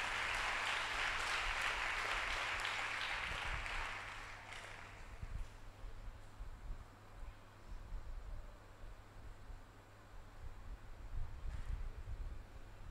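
A church congregation claps hands together at a Telugu sermon, a loud, broad wash of clapping that fades after about four seconds, leaving a low hum and faint scattered taps.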